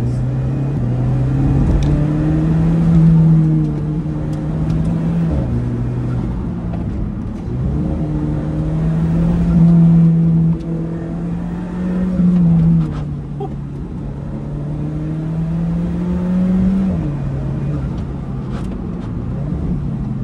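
The 240-horsepower turbocharged 1.75-litre engine of a 2015 Alfa Romeo 4C with dual-clutch gearbox pulls hard on the road, its drone rising through the revs and dropping at each gear change, heard from inside the cabin.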